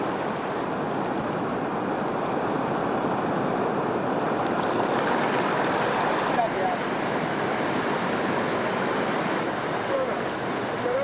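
Congo River rapids at the Boyoma Falls rush in a continuous, roaring wash of turbulent water, steady and loud throughout with no break.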